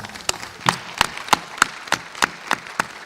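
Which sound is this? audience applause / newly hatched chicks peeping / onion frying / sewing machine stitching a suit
audience applause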